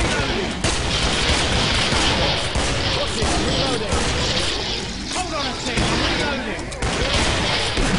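Dense, continuous gunfire and explosions from a horror shooter game fill the whole stretch at high loudness, bursts overlapping without pause.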